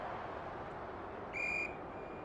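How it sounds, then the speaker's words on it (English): A referee's whistle in an AFL 23 Australian football video game, one short, bright blast over a steady crowd roar. "The umpire whistles for a ball up."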